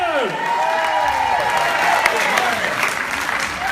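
Big round of applause from a concert audience at the Floral Pavilion, thick continuous clapping with some cheering throughout, while a voice talks over it.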